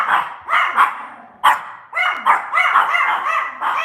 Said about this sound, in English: They're going to bark.